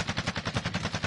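Steady rapid gunfire in a video game, an even rattle of quick shots at moderate loudness with no talk over it.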